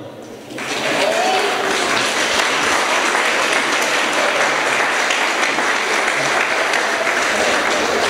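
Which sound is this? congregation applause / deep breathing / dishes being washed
congregation applause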